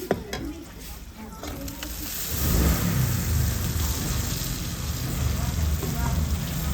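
Tomatoes hitting hot oil in a chicken karahi, a sudden rise into steady loud sizzling and frying that continues to the end, with a voice speaking faintly early on.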